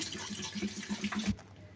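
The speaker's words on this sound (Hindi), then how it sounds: "3 से 4 गिलास पानी डालूँगी" Water is poured into a cooking pot that already holds salted lentils for boiling, a steady splashing fill that stops abruptly near the end, with no voices.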